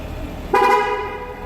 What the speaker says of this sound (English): if I close the door, it's gonna honk to remind me that the key is not detected